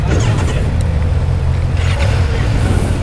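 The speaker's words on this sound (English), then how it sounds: "gonna take this ZX-6R for a little test ride" A 2019 Kawasaki ZX-6R 600 with a quick shifter runs on a demo test ride, its engine a loud, steady, close drone mixed with wind rush throughout.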